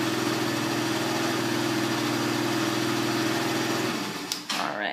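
A 2006 Sym Mio 50cc scooter engine idles steadily with a buzzing, even putter close by, then drops and cuts out near the end.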